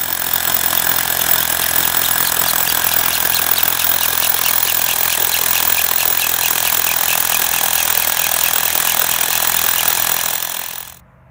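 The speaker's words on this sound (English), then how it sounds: "I'll be using my Bosch rotor hammer with a 5/8 inch bit" A Bosch rotary hammer with a 5/8 inch bit drills holes in rock, pounding steadily and loudly for about ten seconds, a dense rapid hammering with a high whine, then stops abruptly.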